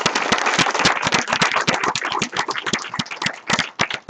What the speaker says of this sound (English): Let's give Max a round of applause here.